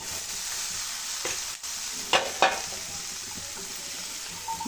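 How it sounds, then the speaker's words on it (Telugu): Spices frying in oil in a pan for a chickpea sundal, with a steady close sizzle and a few sharp scraping clatters as they are stirred, no voices. "ఇప్పుడు ఈ మసాలాలన్నీ కొద్దిసేపు కలుపుకుంటూ ఫ్రై చేసుకోవాలండి"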